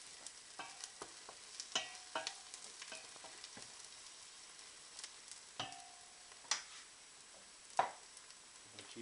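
Mushrooms for chicken chasseur cook in a pan with butter, heard as a faint, quiet sizzle broken by sharp utensil clicks and scrapes against the pan.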